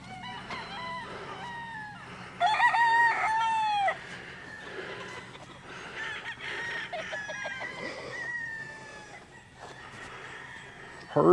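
Chickens at a ranch, clucking close by, with a rooster crowing loudly in the middle and chirpy bird calls scattered throughout, over quiet outdoor background.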